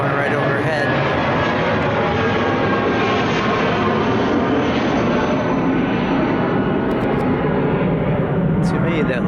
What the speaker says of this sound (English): a jet going right overhead.